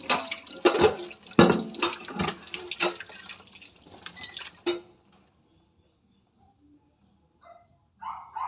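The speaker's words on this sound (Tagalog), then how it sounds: "Maghuhugas ako ng pinggan sa aking pinagkainan." Dishes are washed with running tap water in a kitchen sink, splashing and clattering loudly up close for about five seconds, then falling quiet apart from a few faint drips.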